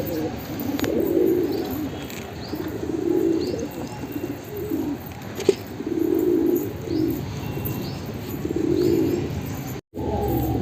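Pet pigeons coo in a slow, rhythmic series of low bubbling calls, close and fairly loud, with a faint tweet and a brief knock partway through.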